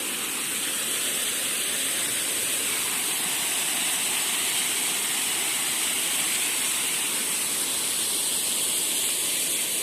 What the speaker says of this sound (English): it's a beautiful fountain